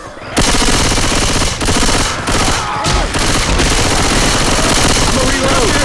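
Rapid bursts of gunfire in the zombie shooter Left 4 Dead 2, loud and sustained with brief gaps between volleys, with shouted voices mixed in.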